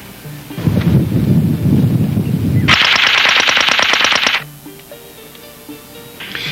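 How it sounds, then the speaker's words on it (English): A rapid burst of muffled automatic gunfire through an improvised suppressor rattles for a couple of seconds, followed by a sharper, hissing clatter of the weapon's mechanical action, then quiet. "This device suppresses muzzle blasts so well that the mechanical noise of the weapon becomes discernible."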